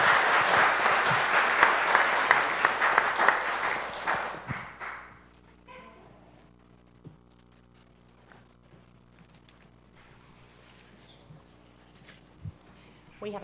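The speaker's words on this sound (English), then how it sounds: "So let's give these folks a round of applause." Audience applause at a city council workshop rises loudly for about five seconds, then fades into a quiet room with faint shuffling and occasional small knocks.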